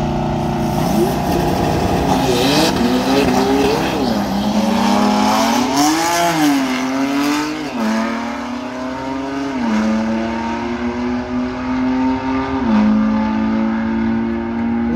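An F80 BMW M3 launches at a drag strip, its engine note climbing in loud repeated upshifts that sweep up and drop back over fifteen seconds, steady and close throughout with no talk.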